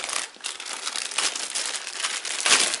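Plastic packaging around an Olympus camera pouch is unwrapped up close, a steady run of crinkling and crumpling with a few louder rustles, with no talk.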